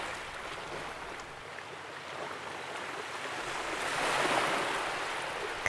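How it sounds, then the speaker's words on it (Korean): Steady ocean surf with wind, a continuous broad wash of waves that swells louder toward the end, no voices. "파도 소리"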